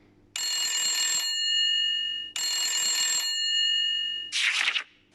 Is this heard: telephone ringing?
yes